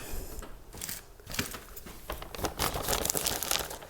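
Crinkling plastic rustles and tears in bursts as a bag of potting mix is pulled and worked open, close up, with no talking.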